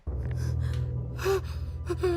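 A woman gasps twice in a played video clip, sharp breathy intakes standing out over a steady low hum, the second one shorter and near the end.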